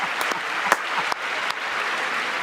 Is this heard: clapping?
yes